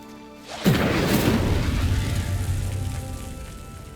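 A fiery Incendiary spell bursts in Hogwarts Legacy, a sudden loud whoosh-boom that hits sharply and then rolls into a sustained, slowly fading roar and rumble.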